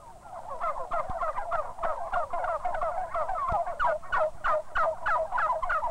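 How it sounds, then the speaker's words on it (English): Young bronze turkeys in a turkey yard gobble in a continuous, rapid, rattling chorus, mid-distance and fairly loud, the calls bunching more densely toward the end. "These are young bronze turkeys."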